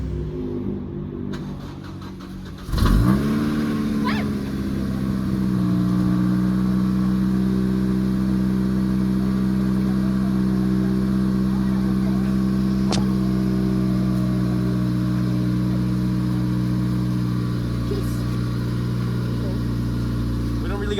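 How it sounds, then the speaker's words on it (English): An Acura RSX Type-S four-cylinder engine cold-starts with a sharp crank and catch, flaring briefly before settling into a steady, even idle held at close range for the rest of the stretch. "nice little cold start for y'all"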